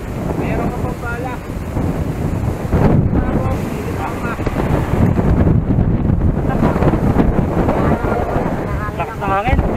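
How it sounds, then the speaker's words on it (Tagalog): Strong wind buffets the microphone in a steady roar during a ride, with people talking over it in Filipino throughout. "Lakas ng hangin."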